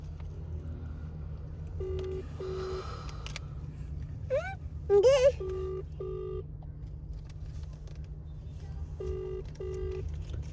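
An outgoing phone call rings unanswered, with a repeating double-pulse ringback tone in evenly spaced pairs, briefly interrupted by a short warbling electronic chirp, over a low steady hum.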